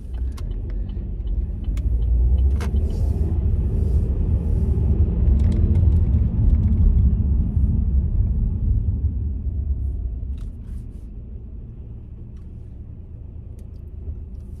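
A car drives through traffic in the UK, heard from inside as a steady low road rumble and engine hum. The rumble swells and then eases toward the end, with a few faint clicks and knocks but no talking.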